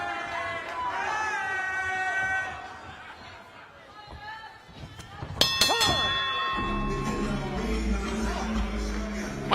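A ringside bell clangs sharply several times at a bare-knuckle featherweight boxing bout, cutting through crowd chatter and commentary, then ringing out over a rumbling arena.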